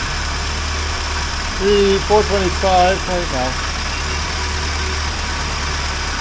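A 1980 Triumph TR7 engine runs at a steady idle, a constant low hum underneath, while someone speaks briefly over it.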